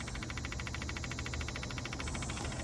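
A faint, steady electric fuel pump hum with a rapid pulsing buzz, running continuously and quietly; the pump works but does not supply enough pressure.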